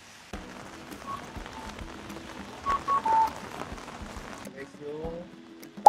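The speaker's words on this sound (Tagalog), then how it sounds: "Kataon lang inulan naman tayo." Steady rain patters on the Tanuki Koji shopping street in Sapporo, Japan, a dense hiss of drops on surfaces with scattered louder splashes and faint background noise.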